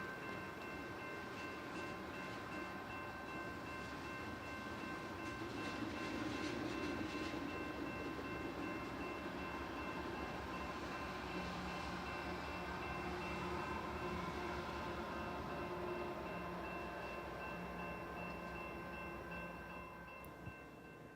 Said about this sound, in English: train 167 is passing through the yard and crossing the diamond